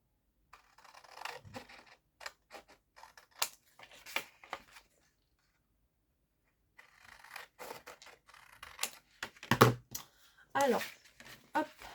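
Scissors cutting paper to make an envelope: a series of crisp, close snips and rustling scrapes in two bursts separated by a quiet pause, fairly soft overall.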